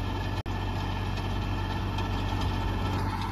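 A New Holland 3630 Special Edition tractor with a turbo diesel engine idles close by, a steady continuous rumble with one brief dropout near the start and no talk.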